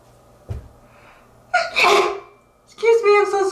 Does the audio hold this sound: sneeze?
yes